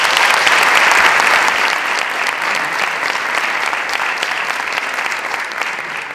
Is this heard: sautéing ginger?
no